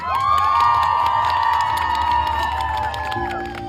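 Guests at a Ukrainian wedding cheer loudly together during the cake tasting, with high whoops and sustained shouts. The excited crowd stays close and full-volume, then eases slightly at the end.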